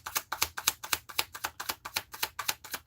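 A deck of reading cards being shuffled by hand gives a quick, regular run of crisp riffling bursts, about four per second, close and fairly quiet, with no voice over it.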